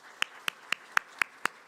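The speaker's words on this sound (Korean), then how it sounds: "우리 두 분의 학습 받으신 것을 우리 박수로 한번 격려하겠습니다" Sharp, evenly spaced claps from a church congregation, seven distinct beats about a quarter second apart, fairly close and alone without talk.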